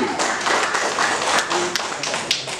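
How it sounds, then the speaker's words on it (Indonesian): An audience at the opening ceremony of a regional association meeting in Ternate claps, giving a short burst of dense applause with sharp individual claps standing out. "Amin, tepuk tangan"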